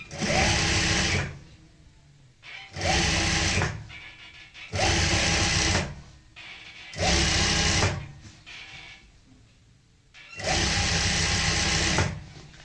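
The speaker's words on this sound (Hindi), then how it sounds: "यहाँ से हम एक बार फिर से फोल्ड करेंगे और फिर से ऐसे ही सिलाई लगाएंगे" A sewing machine stitches a double-folded hem on a skirt, running in five loud, close bursts of one to two seconds, with short pauses between them and no talking.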